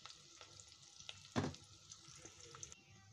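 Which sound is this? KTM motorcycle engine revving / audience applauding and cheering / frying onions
frying onions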